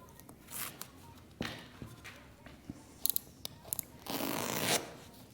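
Boat carpet is cut with scissors or a blade in scattered snips and rasping strokes, close and moderately quiet, with a longer scraping cut near the end.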